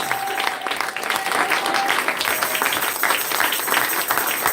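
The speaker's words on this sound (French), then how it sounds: "Et tu acclames le Seigneur pour cette parole." A church congregation applauds and acclaims the Lord in a dense, sustained burst of clapping from many hands, with faint voices mixed into the crowd noise.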